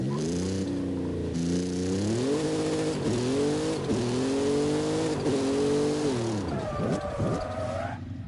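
Race car in the Forza video game, its engine droning steadily with rising and falling pitch as it shifts and accelerates, tyre noise underneath, a sharp revving surge near the end.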